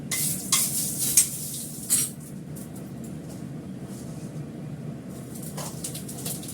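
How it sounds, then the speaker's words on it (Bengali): Milk heating in a pot, stirred with a ladle: low bubbling simmer with a few sharp metallic clinks of the ladle against the pot early on, then a quieter steady stir. "এই হাতাটা দিয়ে আমি নাড়বো"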